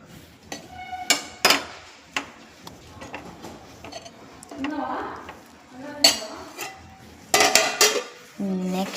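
Tomato curry being served in a hostel, with steel dishes and cutlery clinking and clattering in irregular bursts, a serving spoon scraping and tapping against the pot, close by, with occasional quiet sounds between.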